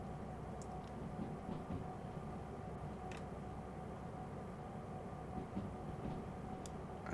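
A train in the Derail Valley railway game rolls steadily along the rails with a low continuous rumble and occasional faint clicks and squeaks, heard alone at a moderate distance.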